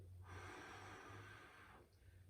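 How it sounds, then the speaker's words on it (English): A single forceful exhale from a person doing a tabletop exercise for lower back pain, a close, airy rush lasting about a second and a half before trailing off. "and then using the exhale"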